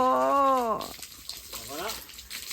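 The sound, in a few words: rottweiler dog splashing and playing with water spray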